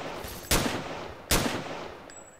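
Two sharp gunshots fired at enemies in the STALKER mod Misery, spaced under a second apart, loud and close over a steady background hiss, each with a short decaying tail.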